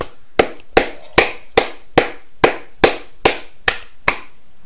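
A single person clapping hands close to the microphone, about eleven sharp, evenly spaced claps at a steady rhythm of roughly two per second, loud and dry with nothing else heard.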